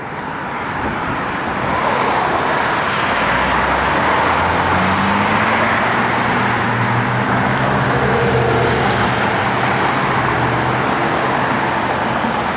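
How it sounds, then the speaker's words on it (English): A 1964 Oldsmobile JetStar I driving on the road, steady broadband road and engine rumble with a low drone that rises after the first couple of seconds and holds, fairly loud and close, no talking. "And man, does this car drive good."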